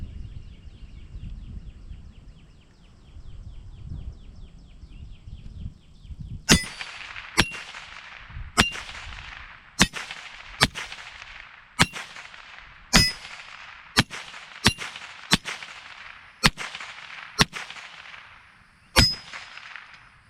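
Marlin 60 semi-automatic rifle shot outdoors, about a dozen sharp, loud cracks spaced roughly a second apart, some closer together, each with a short ringing tail, after several seconds of quiet ambient hum.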